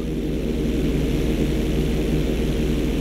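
A fixed-wing airplane in GTA 5 drones loudly and steadily through an inside loop, with a continuous low engine roar that holds even throughout.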